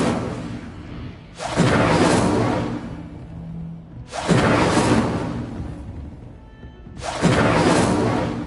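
Three loud whooshing fire bursts from the Incendio spell in Hogwarts Legacy, each a broad roaring rush that swells and fades over about two seconds, evenly spaced with quieter gaps between them.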